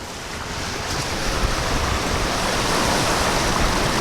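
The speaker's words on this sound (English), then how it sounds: "we're just motoring. Makes it comfortable, even if you have to put up with a noisy engine" A sailboat motors through calm water on its noisy engine with no wind, giving a steady, loud wash of waves and hull noise with a broadband rumble throughout and no talking.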